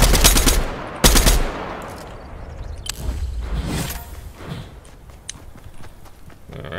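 Video game gunfire, loud close bursts of shots at the start and again around the one-second mark, followed by scattered softer pops over a lower background.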